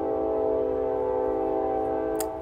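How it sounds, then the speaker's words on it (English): A passing train sounds its horn in a loud, sustained multi-tone blast that holds steady, heard from some distance with no speech. "And there's that train again, y'all."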